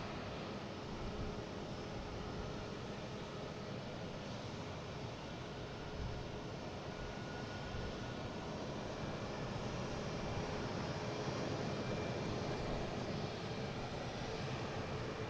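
A JetBlue Airbus A220 airliner takes off at Boston Logan airport, its engines a broad, continuous distant roar holding steady throughout, fairly faint with no talk.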